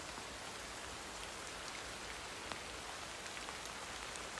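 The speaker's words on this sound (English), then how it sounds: "the sound of the rain falling on the leaves," Rain falling steadily on a coat and leaves outdoors, a soft, even hiss with a few sharper drop taps, faint and continuous with no voices.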